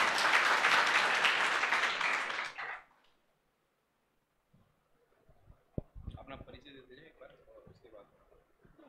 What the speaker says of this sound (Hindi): इनके लिए एक बार तालियां बजा दीजिए